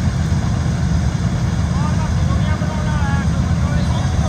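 A combine harvester engine runs at a steady, loud, low drone with no break, while voices can be heard faintly over it.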